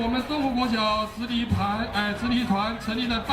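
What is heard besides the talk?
No everyday noise stands out behind the speech.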